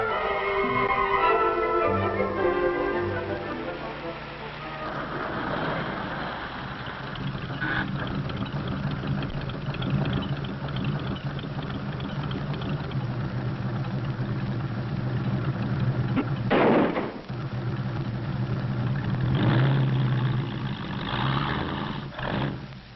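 An old jalopy car engine runs with a rough, roaring drone that rises and falls over the whole stretch, mixed with clattering and other noise, moderately loud throughout.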